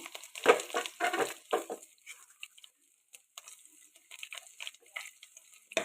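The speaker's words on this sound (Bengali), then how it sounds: "রসুন কুচি দিয়ে এটাকে আমি একটু লাল লাল করে ভেজে ভাজবো" Chopped garlic frying in mustard oil in a wok with cumin, dried chillies and bay leaf, giving bursts of crackling sizzle and stirring scrapes that fade to a quieter, intermittent spatter.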